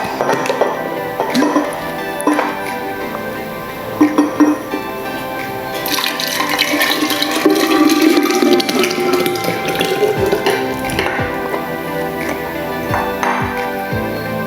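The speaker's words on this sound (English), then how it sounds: "So now we pour it into the glass jar." Piña colada juice poured into a glass jar, a steady liquid trickle and splash that builds in the middle and continues for several seconds, close and fairly clear, with kitchen clatter around it.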